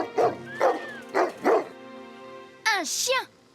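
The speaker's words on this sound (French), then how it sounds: "Un chien." Cartoon dog barks in a few short, bright yips, with brief whimpering cries near the end, close and clear over soft background music.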